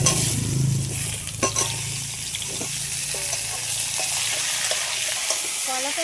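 Banana and potato pieces fry lightly in oil with turmeric, a continuous soft sizzle with occasional stirring scrapes, close and steady throughout.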